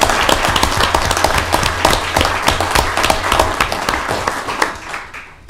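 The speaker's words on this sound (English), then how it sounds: "So I would like to applaud everybody who's doing the work every day." Applause at a county board of commissioners meeting, a room full of people clapping loudly and briskly nearby, individual claps distinct, then thinning out and stopping.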